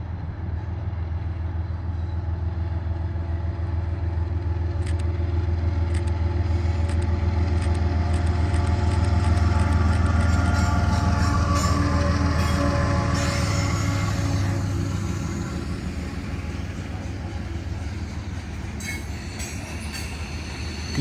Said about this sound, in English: CSX was the next to pass,